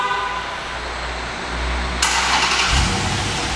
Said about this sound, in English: All right, the vehicle has also a remote start. I'll show you how that goes.